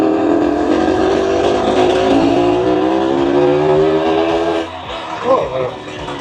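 A 1965 Suzuki K10 motorcycle, running again after sitting for 15 years, pulls steadily in second gear with a loud, continuous engine drone whose pitch rises slowly, then eases near the end.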